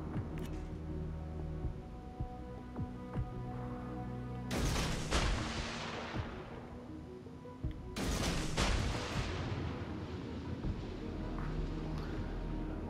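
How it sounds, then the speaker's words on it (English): Two heavy naval gun salvos boom out in World of Warships, each a loud, sharp blast with a long rumbling tail, the first near the five-second mark and the second about three seconds later, over steady engine and water ambience. "All stations, concentrate fire on the target."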